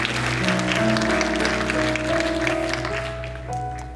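A church congregation applauds during a French sermon, a steady wash of clapping over sustained organ or keyboard chords, moderately loud and fading slightly toward the end.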